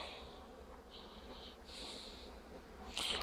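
Prima-breed honeybees leave their hive, a soft steady buzzing that rises and falls in close bursts, with a brief louder flurry near the end.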